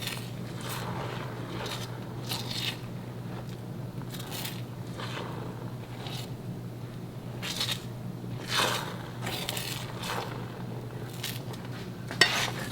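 Scrambled egg being stirred in a pan, with soft intermittent scrapes and clicks of the utensil against the pan over a steady low hum, fairly quiet and close, without talk.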